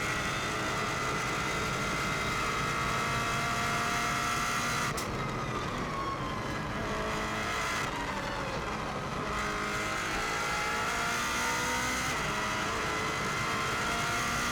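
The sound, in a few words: rally car engine at full throttle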